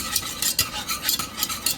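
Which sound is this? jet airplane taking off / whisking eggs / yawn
whisking eggs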